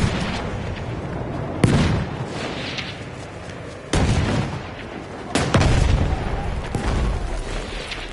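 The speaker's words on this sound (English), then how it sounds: "Grenade out!" Booming blasts in Battlefield 1, a grenade explosion among several sharp detonations at intervals over a continuous roar of battlefield gunfire, loud and near.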